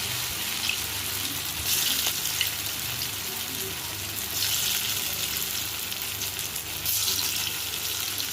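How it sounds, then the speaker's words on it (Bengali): Chana dal fritters with onion and chilli fry in hot oil, giving a loud, constant sizzling hiss with light crackles and occasional louder surges throughout. "এবার আমি এর মধ্যে এক এক করে বড়াগুলো দিয়ে দেবো, ছোটো ছোটো করে সব তেলের মধ্যে দিয়ে দেবো।"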